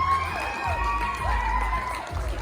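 A live audience at a Christmas magic show cheers, whoops and applauds for a volunteer, with children's shouts rising above a steady, loud wall of clapping and crowd noise throughout.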